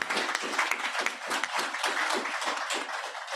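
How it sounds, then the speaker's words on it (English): Dense, steady applause from an audience at a Sunday service fills the whole stretch, thanking guest musicians before they play a Brahms clarinet trio finale. No one speaks over the continuous clapping. "Please give them a big round of applause."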